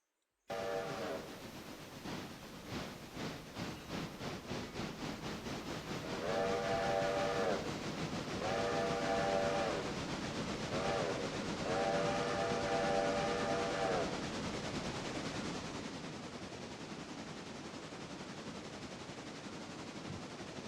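Trains running in the railroad video game Railroader: a steady rolling rumble with rhythmic clacking, broken by several long, loud steam-whistle blasts in a row, with no talk.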